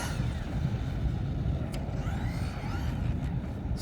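An RC truck running a Castle Mamba Monster X8 8S electric system with a 1650 kV motor whines and revs continuously at close range, a dense, high-pitched electric roar with a few brief surges.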